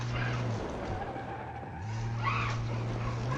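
Car tires squeal as the car drifts in BeamNG.drive with traction control off. A steady engine drone runs underneath as the tire screech rises and falls, close and continuous.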